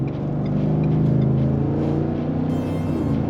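A 2023 Ford F-150 Tremor with a 5.0L V8 gives a close, steady, deep engine rumble that swells under light throttle, then eases slightly as it settles, with no voices.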